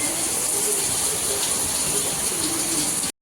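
Heavy monsoon-like rain pours down in May in a dense, steady hiss, close and loud throughout, cutting off abruptly near the end.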